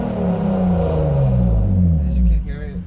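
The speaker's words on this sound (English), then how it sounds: "The car sounds beautiful, honestly." Chip-tuned BMW E36, warmed up, revving close by: a deep exhaust drone with falling harmonics settling down over a few seconds, then quieting near the end.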